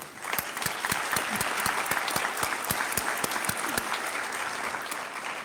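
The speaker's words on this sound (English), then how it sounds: "Let's give that some applause." The audience at a mayoral debate in Elyria, hosted by the League of Women Voters, gives steady applause; separate hand claps are clearly audible as a moderate, even round that continues throughout.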